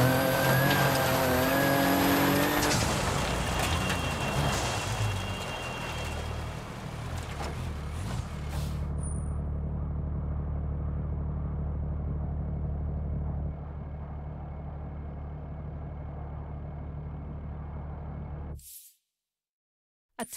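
A rally car in a WRC game at Rally Chile drives loudly through the finish, tires and engine roaring, then the noise drops to a steady low idle-like hum before cutting out.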